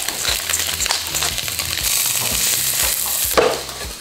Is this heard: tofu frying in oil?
yes